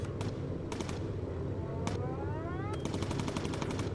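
Machine-gun fire from the aerial combat game Bomber Crew, with short rapid bursts cracking out repeatedly and a longer sustained volley near the end, all over a steady engine-like drone and faint game sounds.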